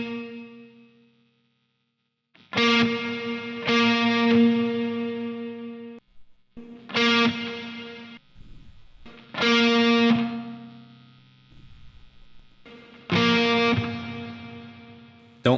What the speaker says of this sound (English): let's just focus on the reverb only so we can hear what this is doing